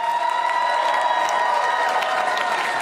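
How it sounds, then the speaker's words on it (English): Comedy club audience at Gotham Comedy Live applauding and cheering, continuous crowd noise with clapping and whoops under a held tone, steady and fairly loud throughout. "Give some round of applause"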